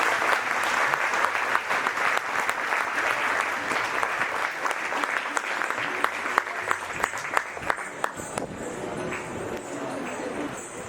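A large audience claps in a hall at a community get-together, a dense, continuous roar of applause that thins into scattered, separate claps toward the end.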